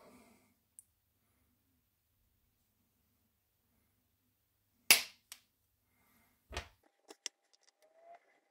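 Model railway rail being cut for a scratch-built turnout, a few sharp isolated snips and clicks against near silence, one loud crack followed by smaller ticks.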